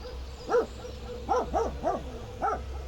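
A dog barks in a simulated environment: five sharp barks in an uneven rhythm, one alone, then a quick run of three and a final one, moderately near, with a sense of open space around them.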